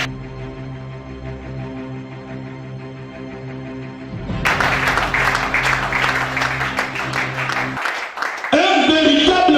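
Church congregation applauding during a teaching service, a dense burst of clapping that rises suddenly after a stretch of quieter sound, continues strongly for several seconds and returns after a short pause, with a voice mixed in.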